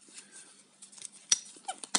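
Small scissors on a NexTool Flagship KT5020 multitool snip a few times, giving sharp, close metallic clicks spaced irregularly over a quiet background.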